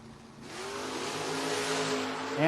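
Drag racing door cars, a Chevy Nova against a Ford Mustang, at the strip: a loud, broadband engine roar swells and holds for a couple of seconds, with a sharp rise right at the end.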